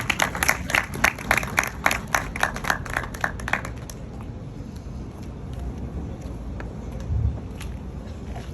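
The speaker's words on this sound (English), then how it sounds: "a round of applause for Mr. Russ" A crowd at an outdoor memorial plaque dedication ceremony applauds in a burst of brisk clapping that fades after a few seconds into quiet ambience with faint traffic and occasional scattered claps.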